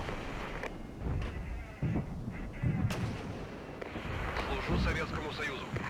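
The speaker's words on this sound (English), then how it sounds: "I think they are bombarding us from here." Artillery bombardment in a WW3 military video game, with dense, continuous rumbling booms and blasts layered over each other, while a voice speaks over the barrage.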